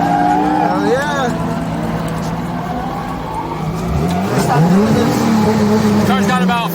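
A 550-horsepower import car is driven hard at a spring car show ride-along in Utah, its engine roaring loudly and up close as the tires squeal in wavering bursts, with excited voices talking over it.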